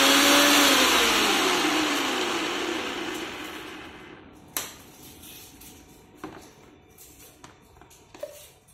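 A Preethi vegetable chopper whirs at speed 1 through green chili, a loud motor burst that winds down and fades over several seconds, followed by a few sharp knocks and clicks.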